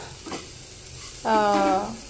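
Chopped pieces sizzle in a hot pan with salt and chilli, a soft stir early on, then a loud steady frying hiss rising for about half a second before easing off; close and alone, no talk.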